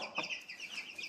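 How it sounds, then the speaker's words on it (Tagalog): Soft, scattered clucking from a few chickens on a farm in Finland, waiting for food nearby, quiet and uneven, with no talking. "may mga manok dito."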